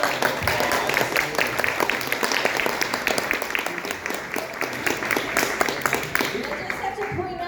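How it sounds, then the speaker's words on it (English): A comic convention panel audience applauds steadily, a dense, sustained patter of many hands clapping that carries on throughout without a break. "Give yourselves a round of applause."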